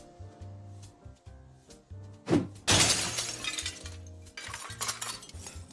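In the video game Project Zomboid, window glass shatters loudly in one crash with a tinkling spray of shards, set against looping low game music that carries on before and after.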